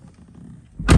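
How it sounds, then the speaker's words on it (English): Mercedes car door opening from the inside, a quiet interior hush followed by a sharp, close latch clunk and thud near the end. "Open the door."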